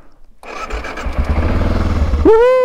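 An adventure motorcycle engine cranks and catches, then idles roughly and steadily up close, ending with a rising rev as a whine sweeps upward.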